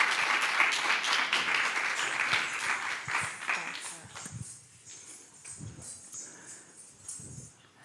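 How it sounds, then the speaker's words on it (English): At the AsiaBerlin 2022 event, an audience gives loud, dense applause for two classical Indian Kuchipudi dancers; the clapping fades out after about four seconds and scattered sounds and speech follow. "give a big round of applause, please, to our dancers"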